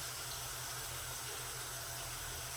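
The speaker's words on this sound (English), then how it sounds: "So the first thing we need to do is rinse the turkey" Cold water runs steadily from a tap over a raw turkey being rinsed, a continuous hissing splash with a low rumble underneath, close and unbroken.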